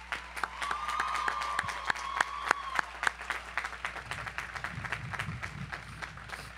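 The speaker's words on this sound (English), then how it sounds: "please join me in a round of applause for the families who are here with you today" A graduation audience claps in a large hall, with sharp individual claps over a thinning round of applause and a faint whistle early on.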